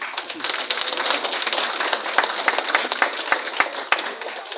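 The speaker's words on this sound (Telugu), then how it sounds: "కొంచెం క్లాప్స్ కొట్టండి" An audience at a real estate townships event claps steadily at a seated gathering, a dense patter of many hands continuing throughout at moderate loudness.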